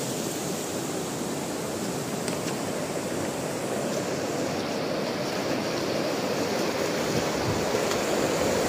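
Floodwater from a mudflow pours through a village in Alay, Kyrgyzstan, making a loud, constant rushing roar that never lets up, with no voices over it.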